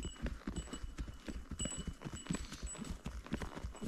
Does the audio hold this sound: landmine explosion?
no